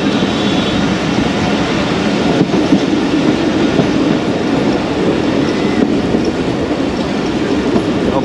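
The Tezgam passenger train runs into Okara station in Pakistan on a rainy day, a loud, continuous rumble of wheels and carriages heard from on board, with a steady rolling roar throughout.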